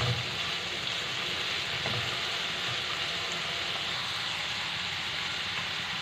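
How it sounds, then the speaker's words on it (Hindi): Chicken pieces fry in a hot pan for jalfrezi with a steady, close, loud sizzle and crackle that never lets up, and no talk over it. "चिकन को हम तब तक फ्राई करेंगे जब तक इसका कलर चेंज हो जाएगा"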